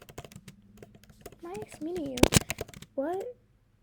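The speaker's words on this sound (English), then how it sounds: "we're going to type in nice meeting you." Someone types briefly on a computer keyboard, light clicks under a voice.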